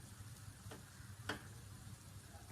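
Vegetable cutlets toasting in oil on a pan make a faint, continuous sizzle, with a couple of soft ticks and clicks of a utensil scattered through it.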